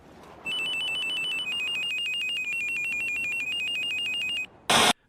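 A Nokia-style phone ringtone from the video game Silent Hill: Shattered Memories plays the Silent Hill 1 theme as a clear, loud electronic melody of repeated beeping notes for about four seconds, followed by a short harsh burst of noise.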